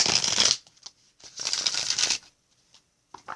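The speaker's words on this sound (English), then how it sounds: "let me shuffle" Two quick bursts of cards being riffle-shuffled, each a rapid fluttering rustle, followed by a few soft taps as the deck is squared up.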